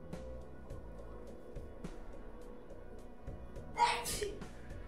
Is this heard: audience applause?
no